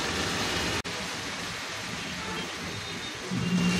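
Shredded meat hits a hot pan and fries with a loud, steady, close sizzle that runs unbroken throughout, with no talking over it.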